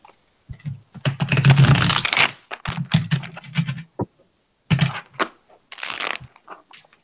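Bursts of papery riffling and tapping as tarot cards are shuffled, several irregular rounds separated by short pauses.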